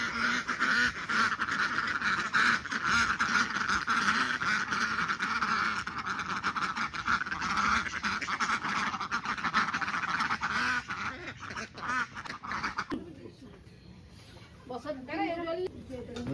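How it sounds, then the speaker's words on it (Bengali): A group of ducks quacks continuously and loudly nearby, thinning out toward the end as a voice speaks. "আপনার হাঁস এসে পড়ছে সব খাওয়ার লাগে কেক কেক কেক করতেছে"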